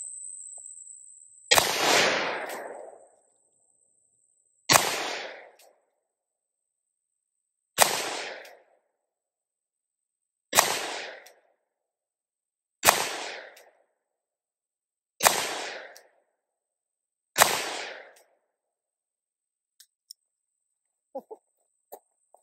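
Seven evenly spaced, loud booming shots from a Taurus Raging Hunter .357 Magnum revolver, each a sharp crack with a trailing decay, separated by pauses of a few seconds, with faint handling noises after.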